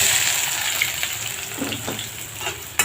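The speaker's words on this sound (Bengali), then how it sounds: "পেঁয়াজ কুচিগুলো একটু লাল লাল করে ভেজে নিব।" Chopped onions fry in a pan for mutton rezala with ginger and garlic paste, giving a bright, steady hiss of sizzling oil with a few light stirring scrapes and a sharp clink near the end.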